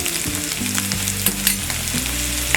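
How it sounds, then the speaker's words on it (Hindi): Potato pieces fry on high flame in a pan, giving a steady loud sizzle with a few sharp crackles and stirring scrapes breaking through the hiss. "हमने फ्लेम को हाई कर लिया है और 5 मिनट तक आलू को फ्राई कर लिया है।"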